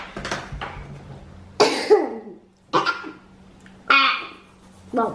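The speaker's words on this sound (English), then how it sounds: "Well, that's a big burp." Four loud, abrupt coughing or burp-like bursts from a child, spaced about a second apart, with harsh broadband throat noise and brief rasping tails between quieter gaps.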